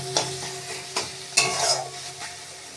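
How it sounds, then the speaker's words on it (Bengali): Red amaranth greens with green chilli frying in a pan, stirred with a spatula: several sharp scraping strokes spaced about half a second apart over a steady close sizzle, with no talking. "শাকটাকে ভালো করে ভেজে নামিয়ে দেব"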